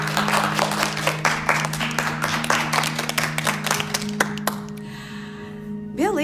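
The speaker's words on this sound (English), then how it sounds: "Let's all give them a round of applause." A group claps in a quick, fairly loud rhythm, the claps thinning to a few scattered ones before fading out, with a low steady hum underneath and a short vocal sound at the very end.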